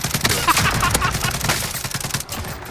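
Rapid, dense gunfire crackles continuously with sharp cracks and booms, loud and close, in a Call of Duty Warzone firefight with no pauses.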